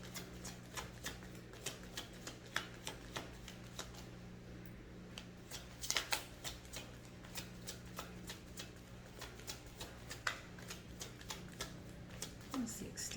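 A tarot deck with a shiny purple finish is shuffled by hand in a rapid series of crisp riffles and taps, close up and fairly quiet.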